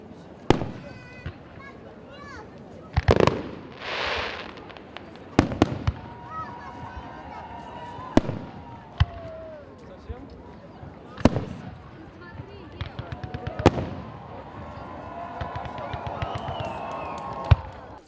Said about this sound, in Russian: Фееричной точкой первого дня праздника становится салют.